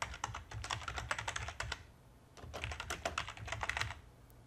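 Rapid clicking keystrokes on a computer keyboard, quiet and close, in two bursts of typing separated by a short pause.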